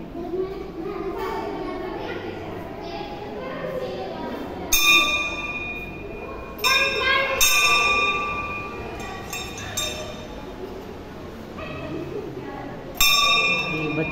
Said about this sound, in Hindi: ये बच्चे घंटियां बजा रहे हैं